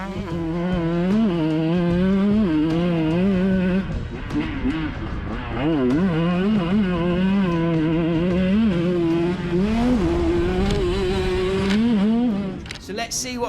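A 125cc race motorcycle pulls away from the start line, its engine whine climbing and dropping repeatedly as it revs through the gears, loud and close, with a voice talking over it.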